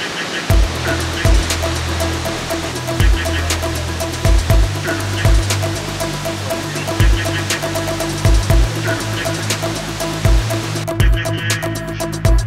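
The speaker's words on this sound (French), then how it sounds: "Notamment cette cascade de Loon Creek" Loon Creek waterfall in South Africa, a 68-metre drop, roars as a loud, steady broadband wash of falling water, with low thuds and rhythmic pulses running through it.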